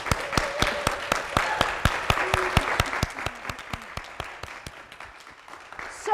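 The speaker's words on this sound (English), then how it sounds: "Let's give those two a round of applause." Audience applause at a campus event, a dense steady burst of clapping from a crowd that thins out toward the end, with no one speaking over it.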